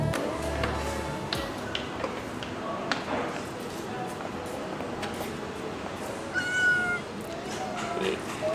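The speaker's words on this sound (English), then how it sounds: "the best part is this cat, which just started to like smell my camera and everything else" A cat meows near the camera in an apartment entrance in Istanbul, Turkey, giving a few short calls over room noise and faint background voices.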